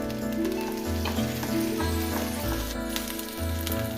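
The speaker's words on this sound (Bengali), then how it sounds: "পেঁয়াজটা একটু ভাজা হলে রসুন বাটা দিলাম সামান্য আদা বাটা দিলাম" Onion paste frying in oil with garlic and ginger paste added, for a spicy pabda fish curry; a steady close sizzle runs throughout, with faint stirring and a low hum beneath.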